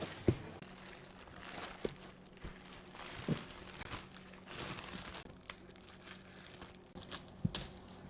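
Soft foam wrapping around a new paddle crinkles and rustles as it is pulled away, with a few sharper crackles and thumps scattered through the handling, close and quiet.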